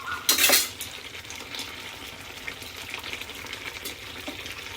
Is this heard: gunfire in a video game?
no